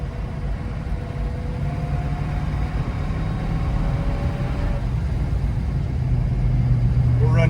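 A 1970 Ford Mustang Boss 429 driving, its engine a loud continuous rumble from inside the car that climbs in pitch as it pulls through the gears.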